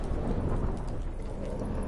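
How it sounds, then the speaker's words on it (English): Stormy weather from The Witcher 3 on PS5, with steady heavy rain hissing across the whole stretch and a low rumble of thunder beneath it, dense and continuous with no voices. "Didn't bargain for no storm."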